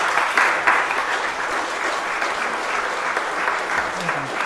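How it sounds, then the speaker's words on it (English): A church congregation applauds at the end of a Sunday sermon after Trinity, sustained even clapping filling the hall with a few nearer claps standing out and a faint voice near the end. "We don't normally clap at the end of a sermon, but I think we should today"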